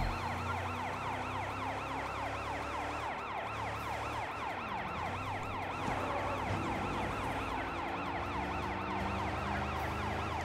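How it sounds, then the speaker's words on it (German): Police car siren in the video game Sleeping Dogs, a loud, continuous wailing tone that sweeps up and down steadily throughout, over a low engine rumble with no talking. "Cooles Polizeiauto."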